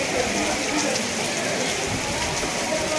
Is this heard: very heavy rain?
yes